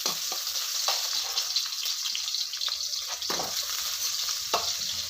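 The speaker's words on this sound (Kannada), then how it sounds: "ಈರುಳ್ಳಿ ಸ್ವಲ್ಪ ಫ್ರೈ ಆಗಲಿ." Onions frying in oil in a pan for a quick sambar hiss with a steady, close sizzle, broken by a few soft stirring scrapes and no talking.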